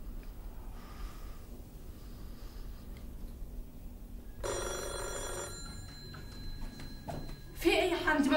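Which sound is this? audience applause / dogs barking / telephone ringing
telephone ringing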